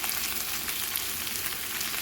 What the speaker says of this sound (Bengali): আদাটা দিয়ে দিলাম। দিয়ে মশলাটাকে কষিয়ে নেব।